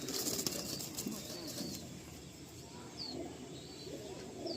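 Imported pigeons coo softly in a crowded loft, with several low rolling coos and faint chirps over a steady background hum, close by and fairly quiet.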